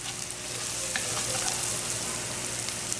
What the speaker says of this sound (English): Fry it up in the ghee or the butter.